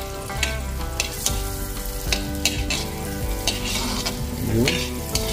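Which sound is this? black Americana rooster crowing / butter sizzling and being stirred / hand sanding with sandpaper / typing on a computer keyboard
butter sizzling and being stirred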